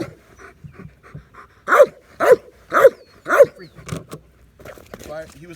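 Trained dog barking at a target, four loud, forceful barks in a steady rhythm, close up, with panting before and after.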